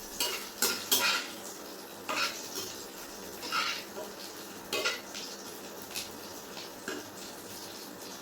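Noodles are mixed on a plate with cutlery, producing repeated soft clinks and scrapes in an irregular rhythm, fairly close and quiet.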